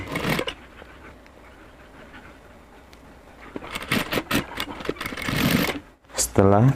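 A sewing machine stitching a 3D fabric face mask runs in quick buzzing bursts after a quiet stretch, loud and close. A voice speaks near the end.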